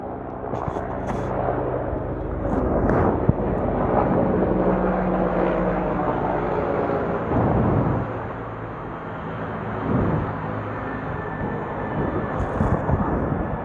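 A helicopter passes overhead, its broad rotor and engine roar swelling and ebbing for several seconds, fairly loud and distant-to-near with no voices.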